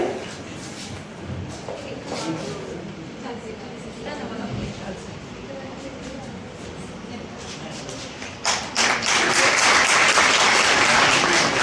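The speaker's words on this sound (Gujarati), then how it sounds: "તાળીઓ ધીમી નહીં થોડી જોઈએ" An audience claps at a certificate ceremony for World Disability Day at a library. Scattered clapping sits under talk, then swells into loud, sustained applause near the end.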